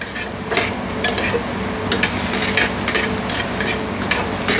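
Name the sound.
sautéing mushrooms with bacon and garlic in a pan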